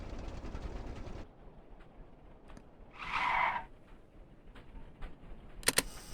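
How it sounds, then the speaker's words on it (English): Heavy truck tires in the video game Stormworks squealing in a short burst under hard braking with a low grip setting, rising out of a quiet engine rumble after a loud stretch that cuts off, followed by a couple of sharp clicks. "It might just make the tires squeal a bit more."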